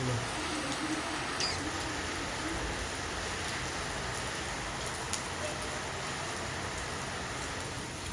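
Steady rain falls throughout, a soft continuous patter spread evenly over the whole stretch, fairly quiet and with no voices over it.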